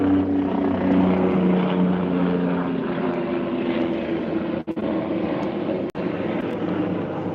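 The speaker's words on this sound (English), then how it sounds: "There's a helicopter flying over my head right now." A continuous droning helicopter rumble with steady rotor hum, loud and sustained, as if passing overhead.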